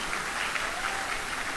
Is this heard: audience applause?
yes